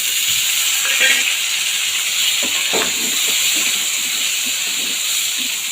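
Tomatoes, shallots and green chillies fry in a pan for a green chilli chutney, giving a steady hiss and sizzle with faint stirring clinks scattered through, close and even, no talking.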